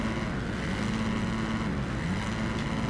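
A motocross motorcycle engine in the Monster Energy Supercross game drones steadily with a constant buzzing tone and no pauses. It stays loud and close, with a slight waver in pitch.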